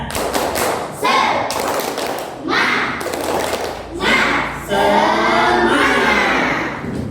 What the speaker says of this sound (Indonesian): Kita berdiri semuanya. Tepuk semangat.